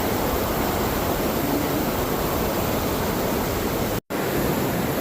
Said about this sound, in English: There's the bottom of the upper rapids.